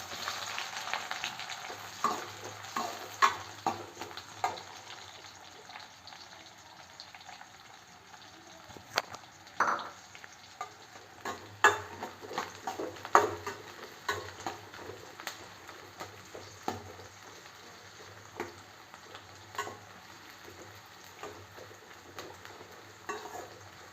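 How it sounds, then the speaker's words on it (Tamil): Chopped onion drops into hot oil in a pan for egg kurma, giving a steady frying sizzle broken by scattered stirring clicks and scrapes, with a brief surge of crackle midway. "சூடானதுக்கப்புறமா நம்ம கட் பண்ணி வச்ச ஆனியனை இதில் போடணும்."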